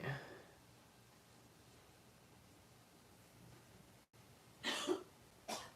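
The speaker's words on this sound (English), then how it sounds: "you coughing in there?" A couple of short coughs sound faintly from a distance near the end, over a quiet, hissy background.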